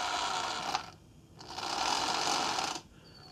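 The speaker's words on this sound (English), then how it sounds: "If I turn the knob, you can hear the motor going" A small electric motor in an RC model, controlled by a Deltang Tx20 transmitter, whirs in two bursts, a buzzy hum rising to a steady drone then cutting off, close and fairly quiet.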